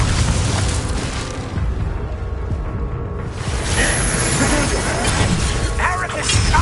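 Incendio fire spell cast in Hogwarts Legacy, a loud, continuous whooshing roar of flames with booming bursts and crashes, thick game ambience throughout and a brief dip in the middle before the fire surges again.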